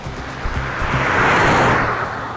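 A car drives fast and passes close by, a rushing engine and road noise that swells to a loud peak and then fades away.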